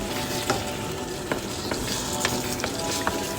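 Iwashi sardines frying in a pan for a dish with upo give a steady close sizzle, broken by scattered small pops and clicks throughout.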